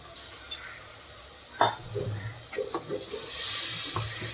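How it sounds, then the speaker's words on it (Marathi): Water splashes into a pan of spiced masala (ground coriander, red chilli, cumin powder and garam masala) with a sudden hiss, then bubbling and a rising rush of simmering liquid; close, no talking. "थोडंसं पाणी टाकते"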